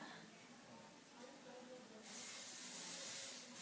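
A steady hairspray aerosol hisses close by, starting abruptly partway through and continuing to the end over a quiet background.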